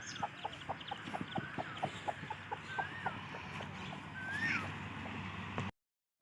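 Chickens on a farm cluck in short, repeated bursts close by, with a few higher calls rising over a low steady background hum. The sound ends in abrupt silence.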